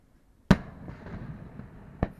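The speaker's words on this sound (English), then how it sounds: "Fireworks barge over there." Two firework booms from a fireworks barge over the water, about a second and a half apart, the first louder, each trailing off into a soft rolling echo.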